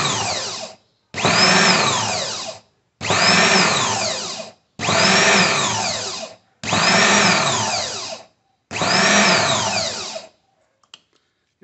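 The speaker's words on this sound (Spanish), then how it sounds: "ya revisamos que ya funciona el motor" A car starter motor bench-tested on a workbench whirs in six loud bursts of about a second and a half each, every one spinning up with a rising whine, separated by short silences, with a small click at the end.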